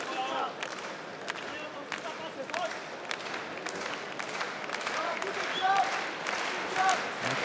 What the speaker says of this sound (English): the crowd already clapping him in